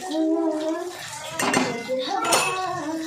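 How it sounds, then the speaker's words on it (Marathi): Metal spoon scraping and clinking in a cooking pan while turmeric and red chili powder are mixed into sautéed ridge gourd curry base, a few close scrapes with a voice talking over them. "आता हळदी पावडर घालून चांगलं मिक्स करून घ्यायचे"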